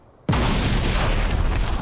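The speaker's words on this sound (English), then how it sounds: "Explosions." An explosion in a Warhammer 40k video game bursts suddenly after a quiet moment, then a loud, sustained roaring rumble carries on to the end with no talking.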